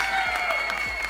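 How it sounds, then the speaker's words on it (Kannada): A studio audience at a televised dance competition claps steadily in a short, even burst of applause heard close, with a tonal musical hum running beneath it. "ಸೊ ಬನ್ನಿ ಜರ ಚಪ್ಪಾಳೆ."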